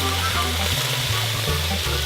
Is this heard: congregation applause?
no